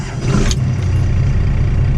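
A first-generation Cummins diesel engine in a tow rig starts up, a brief crank giving way to a loud, steady low idle rumble close by.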